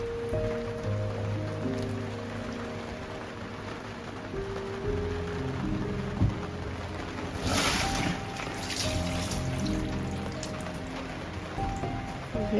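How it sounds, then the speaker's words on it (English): Rain falls steadily at a boat yard, a continuous patter on hard surfaces with low engine-like hum and tonal sounds beneath, moderately loud throughout with a brighter splashing burst midway. "We can't even get out because it's raining."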